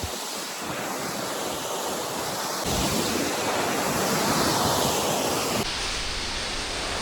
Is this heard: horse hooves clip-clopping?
no